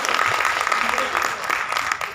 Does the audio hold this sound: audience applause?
yes